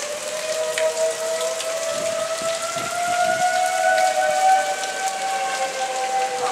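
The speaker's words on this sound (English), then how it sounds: "wind's picking up, so." Strong wind and rain sweep in ahead of an approaching tornado on New Year's Eve, a steady rushing wash with a wavering siren-like whine running through it, no voices.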